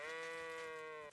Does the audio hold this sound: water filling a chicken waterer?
no